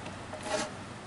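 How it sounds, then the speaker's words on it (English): A rasp's flat side drags across wood in a single brief pass, a soft broadband rasping scrape that swells and fades over about a second, close and fairly quiet, with no voices. "Rasp take out material in one direction, this way"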